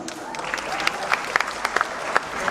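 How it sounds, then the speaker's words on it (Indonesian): An audience at a Balinese bondres comedy show in Tabanan applauds lively, a continuous crowd clapping with sharp individual claps standing out, moderately near, with some voices under it. "Tepuk tangannya meriah."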